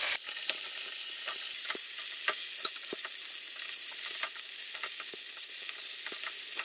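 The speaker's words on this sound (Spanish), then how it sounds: "Vamos a voltear el pollo." Chicken sizzling steadily in a pan after being turned, a dense continuous hiss of frying with scattered small pops and crackles, close and even, without voices.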